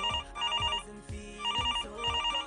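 A home telephone rings in repeated trilling bursts, each electronic warble short and bright, with brief gaps between rings and no voices.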